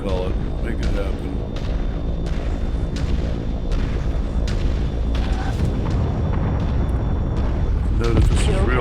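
Artillery explosions in a war video game, repeated booming blasts spaced irregularly over a continuous rumbling battle bed, fairly loud and heavy, with a voice talking throughout.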